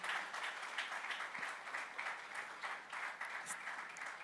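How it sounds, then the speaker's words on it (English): Audience applause at a real estate summit for a speaker, a steady wash of many hands clapping at moderate distance, fairly quiet and continuous with no talk over it. "Please, a round of applause for Mr. Toyin Ayinde."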